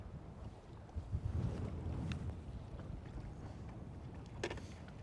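Wind blows across a lake on Lake Guntersville as rushing, rumbling gusts buffet the microphone, with faint water lapping and a couple of light knocks against a boat.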